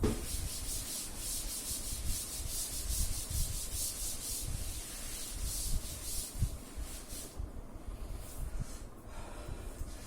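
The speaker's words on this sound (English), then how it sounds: "Now I am going to rub the question." A board eraser or duster rubs back and forth across a board, wiping away a written maths question in steady, close, scratchy strokes for several seconds, with no talking.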